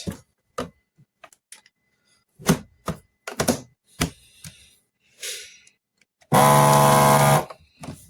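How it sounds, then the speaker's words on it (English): A vacuum sealer pulls air from a bag of homemade flour-free chocolate banana bread, a loud steady buzzing hum lasting about a second after scattered clicks and handling taps. "So I just want to suck up out enough air like that, and then seal it."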